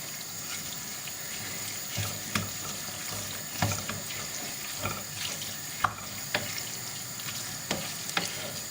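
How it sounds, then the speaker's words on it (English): Ragu bolognese mix stirred in a pot, a steady sizzle and wet bubbling with scattered spoon scrapes and clinks against the pot, close and moderately quiet, with no talking. "Give your ragu mix a stir."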